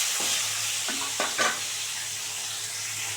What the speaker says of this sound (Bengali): এই দেখো, সুন্দর করে ভাজা হয়ে গেছে। আরেকটাও ভেজে নেব।